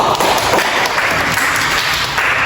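A classroom of students claps during a biology microteaching lesson, dense steady applause that stays loud and close from start to finish.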